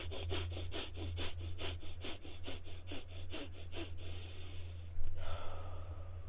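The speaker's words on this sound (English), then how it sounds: "breathe fast through your nose" Rapid breathing through the nose as a breathing exercise: about a dozen quick, sharp, evenly spaced nasal breaths close to the listener, then a brief pause and one louder breath.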